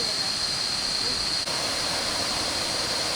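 At the lower level of Kuang Si Falls in Laos, the waterfall gives off a loud, steady roar of rushing water, a constant broadband wash that fills the scene with barely any change.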